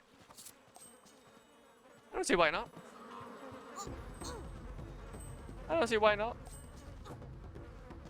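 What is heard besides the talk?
bees buzzing in the video game Mini Ninjas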